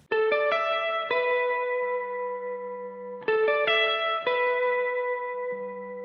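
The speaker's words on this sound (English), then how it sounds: "there's a high guitar part, which sounds like this" A high electric guitar part for a pop country song rings out in two repeated phrases of bright, sustained plucked notes with effects and reverb, played alone without voices.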